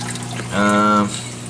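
Water trickles and splashes steadily through the sump and CPR refugium of a home reef aquarium with a Danner return pump, while a short voiced hum rises briefly over the flow in the middle.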